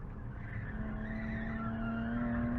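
Race car braking and turning in at Grattan Raceway, heard from inside the car as a steady, loud engine drone with a rising tonal whine and faint tire scrub over a short stretch.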